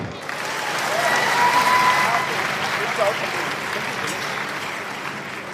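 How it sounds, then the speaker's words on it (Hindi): Loud applause from a crowd, a dense wash of clapping that swells and then holds steady. "जोरदार तालियां"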